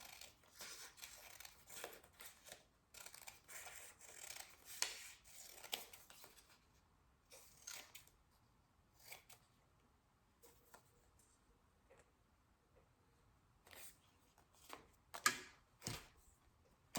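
Scissors snip paper labels for bath truffles, a run of quick sharp cuts clustered early then scattered in sparser, louder snips, close and distinct in a quiet room.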